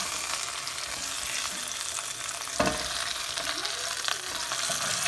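Beef short ribs searing in a pan on a stovetop over high flame, continuous close sizzling hiss with a brief knock and shift of the meat partway through, no speech.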